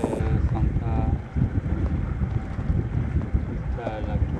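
Steady wind noise buffets the microphone on a sailboat running under sail with its engine shut off near the Strait of Bonifacio off Sardinia, a continuous broadband rush with faint water sounds beneath.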